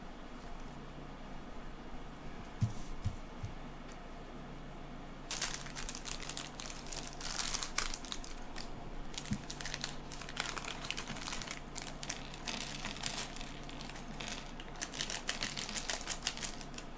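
Paper instructions for a Make-It Blocks building-brick set are unfolded, with faint crinkling that turns into a long, busy stretch of close paper crackling and rustling, continuous and fairly quiet.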